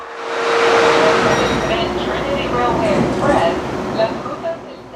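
A TEXRail commuter train pulls out of T&P Station in Fort Worth, heard from inside as a steady rumble and rolling rail noise with a faint whine, while a voice talks over it.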